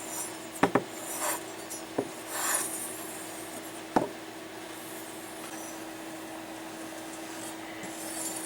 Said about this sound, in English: you bring it across like this, flip it over, bring it across like that